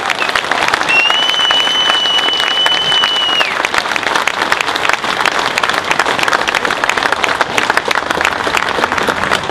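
Loud, dense audience applause for veterans at a closing event, sustained clapping from a large crowd filling the whole stretch, with a brief whistle early on and no speech.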